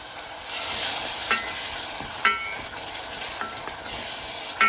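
Moong curry mixture with roasted onion and spices stirred in a pan on the stove, a steady soft sizzle under scraping strokes and a few light clinks of spoon on metal, close and continuous with no talk.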